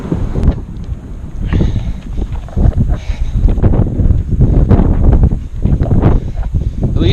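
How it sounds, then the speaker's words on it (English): Wind blows steadily outdoors by a river on a warm day, a broad rushing roar with gusty rustling swells buffeting the microphone throughout, without voices. "At least there's a bit of a wind today."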